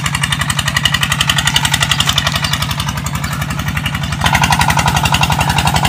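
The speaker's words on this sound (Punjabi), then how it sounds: "ਸਾਹਮਣੇ ਪੀਟਰ ਚੱਲ ਰਿਹਾ, ਆਵਾਜ਼ ਆ ਰਹੀ ਆ।" A Peter engine water pump watering a newly planted orchard chugs loud and close with a fast, even knocking pulse that keeps going throughout, stepping slightly louder near the end.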